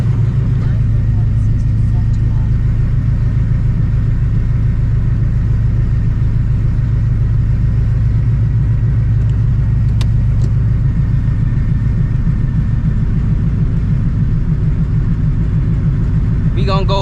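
A Shelby GT350 engine rumbles steadily up close for the whole stretch, a deep low drone with a slight rev near the end; a voice talks over it at times.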